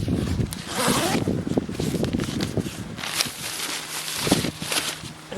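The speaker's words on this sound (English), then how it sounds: "It is a double zipper door, so you can unzip from the top." A double zipper door on an REI Arete ASL 2 tent being unzipped from the top, giving a close, continuous rasping zip with fabric rustle and handling noise over several seconds.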